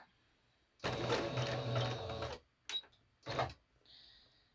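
Close sewing machine stitching four-patch quilt block fabric: one sustained burst of rapid needle clatter, then two short spurts separated by quiet pauses.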